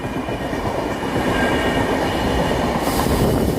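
Karnavati Express rumbles past at close range in a steady, loud roar of wheels and carriages that brightens slightly near the end, heard alongside a moving local train.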